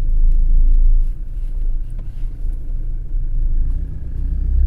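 A Toyota 2KD common-rail diesel engine, freshly overhauled, idles with a steady low rumble and a few slight fluctuations, close and continuous without talk.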